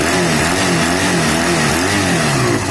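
Honda CB250 motorcycle engine idling steadily at close range, a loud continuous throb with slightly wavering pitch, no voices over it.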